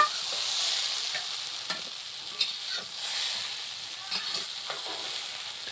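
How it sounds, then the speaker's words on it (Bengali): Vegetables stir-fry in a kadai for a sour green-mango fish curry, a soft continuous sizzle broken by occasional stirring scrapes, with no talk. "সবজিগুলোকে হালকা করে ভেজে নিয়েছি"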